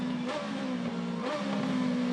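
An Aussie Racing Cars race car engine at Hidden Valley revs high and steady at about 11,500 RPM, a loud continuous whine with slight pitch shifts, no voices.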